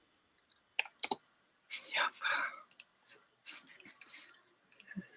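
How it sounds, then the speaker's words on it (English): Someone types on a computer keyboard during an online webinar call, in irregular bursts of sharp clicks with short pauses between them, and faint whispery voices come through quietly. "all I can do is hear you typing"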